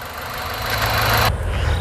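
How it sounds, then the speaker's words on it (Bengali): A 2010 Mitsubishi Lancer EX with a 1500cc engine idles nearby, a steady low mechanical hum with a brief swell of hiss that cuts off partway through. "আমরা ইঞ্জিনের সাউন্ডটা শোনাবো আপনাদেরকে।"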